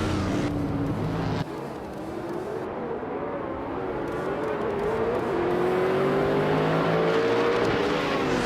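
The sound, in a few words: modern supercars racing at Bathurst in a racing video game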